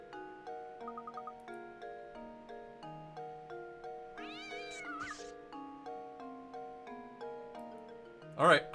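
A cartoon cat meows repeatedly in the Professor Layton puzzle video game, a few short mews mixed into a steady, ticking game melody, with a bright chiming jingle at the end.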